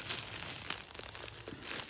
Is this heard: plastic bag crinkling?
yes